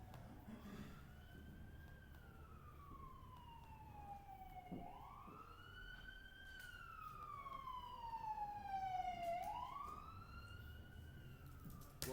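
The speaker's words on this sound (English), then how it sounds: "There are some odd sirens here." Emergency sirens wail and yelp in sweeping rising and falling tones, moderately distant over a low traffic rumble, shifting pattern partway through.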